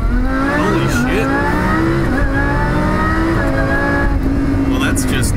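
Supercharged Lamborghini Huracan VF800 engine pulling hard at half throttle, a loud, sustained rising roar with gear-change dips, heard close from inside the car.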